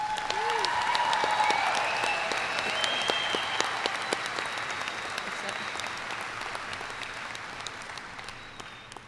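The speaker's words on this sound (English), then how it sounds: "Please give these students a round of applause." Graduation audience at a high school ceremony applauds steadily, dense clapping filling the room and slowly tapering over about nine seconds, with no talk over it.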